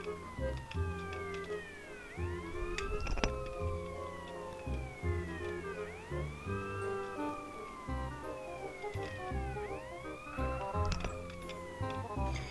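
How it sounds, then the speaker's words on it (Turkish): A wailing police siren sweeps up and down repeatedly, loud and continuous, with music and some scattered noise underneath. "O yüzden sirenimizi açalım."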